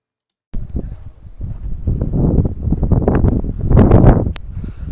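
Gusty wind in Argentina buffets the microphone with a loud, rumbling roar that swells and eases, with faint rustling in the background.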